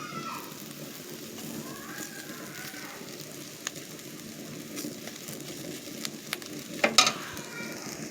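Duck eggs and clam meat fry in a pan with a soft, steady sizzle throughout, close but low in level, with a few brief clicks near the end and no talking.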